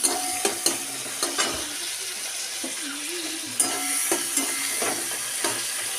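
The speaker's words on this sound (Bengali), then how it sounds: "টমেটোটা খুব ভালো করে তেলের মধ্যে ভেজে নিয়েছি" Oil sizzles steadily under frying tomatoes with ground coriander, cumin, turmeric and chili, with occasional clinks and scrapes of a spoon stirring the pan.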